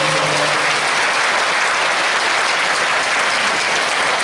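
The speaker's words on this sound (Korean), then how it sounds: "박수해 주십시오." A church praise competition audience at a police Christian mission event breaks into dense, sustained applause, loud and even throughout, with no voices rising above it.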